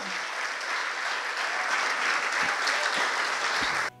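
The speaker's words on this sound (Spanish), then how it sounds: "Dale el aplauso al Rey." A church congregation breaks into sustained applause, a thick even wash of many hands clapping that runs for several seconds and then cuts off abruptly.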